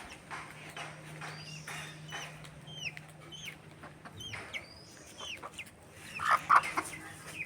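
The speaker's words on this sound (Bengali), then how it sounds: "ছানা মুরগি এখানে।" A hen with her chicks in a yard, soft intermittent clucks mixed with thin high peeping calls, moderately close and fairly quiet, with a louder burst near the end.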